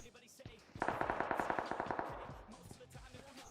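Rapid burst of machine gun fire in PUBG on the Erangel map around Rozhok, about a dozen quick evenly spaced shots, fairly close and then tailing off.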